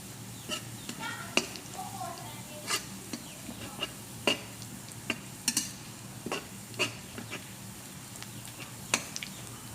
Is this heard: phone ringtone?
no